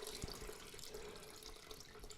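Hot water pours steadily from a kettle onto fruit, a soft continuous splashing and trickling stream heard up close and fairly quiet, with no talking.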